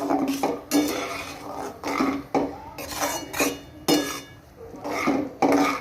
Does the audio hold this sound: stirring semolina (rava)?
yes